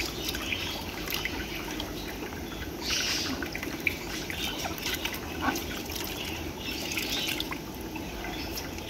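Water drips and trickles steadily from a squeezed aquarium filter sponge, a close, continuous wet patter with small splashes.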